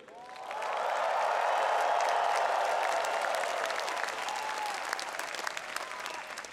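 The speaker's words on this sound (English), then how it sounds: "Please cheer and wave." A large crowd of MIT graduates cheers and applauds at a 2018 commencement ceremony, rising quickly into a loud, sustained wash of clapping and whoops that holds steady for several seconds.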